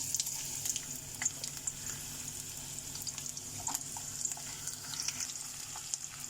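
Onion fries in mustard oil in a kadhai with a steady, soft sizzle and occasional small crackles and pops. Nobody talks over it.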